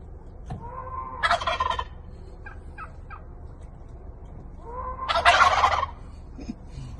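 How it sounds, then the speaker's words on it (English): Tom turkeys gobble around a Tesla Model 3 in answer to goat sounds from a boombox: two loud, rattling gobbles a few seconds apart, with fainter bird calls between them over a low background hum. "surrounded by tom turkeys, responding to his boombox goat sounds"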